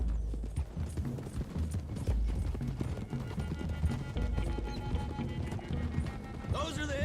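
Horses gallop with steady clip-clop hooves in the Red Dead Redemption 2 video game, loud and continuous under game music and voices talking, with a brief whinny near the end.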